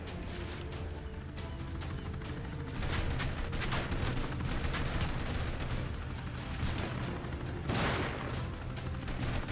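Gunfire in the mobile shooter game Frontline Commando 2 forms a dense, continuous wash of shots and impacts, loud and steady, with a few sharper bursts standing out.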